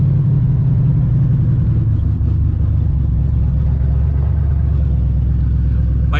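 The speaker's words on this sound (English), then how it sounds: "going wide open throttle on this car" Turbocharged Ford Mustang SN95 engine at wide open throttle, a loud, steady, deep engine roar with heavy low rumble that holds throughout without a break.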